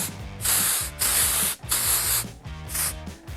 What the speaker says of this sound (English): This stuff is a aerosol texture powder, so I just need to coat the hair real quick